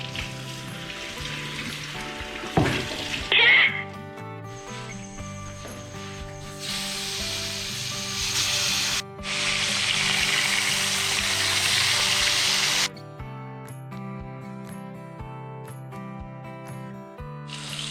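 Fish frying in oil in a pan gives off bursts of loud, broad hissing sizzle that come and go over steady music playing throughout.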